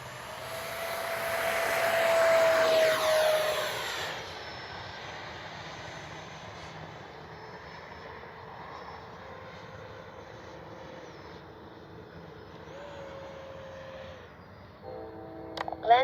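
A Freewing 70mm Vulcan RC jet flies past with a whining turbine roar that swells, then fades and lingers as a steady distant hum, heard in open air without talking.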